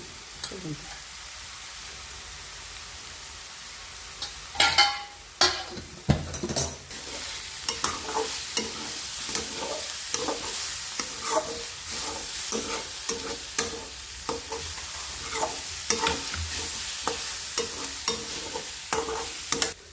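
A mixture for eggplant bharit fries in a pan while a spoon stirs it in repeated scraping strokes and taps, steady and close, over a continuous low sizzle, with a brief throat sound partway through.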